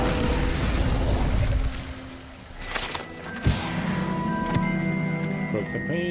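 An Incendio fire spell cast in Hogwarts Legacy, a dense roaring whoosh that sustains and then fades, followed by a sharp pop or burst and lingering magical ringing tones.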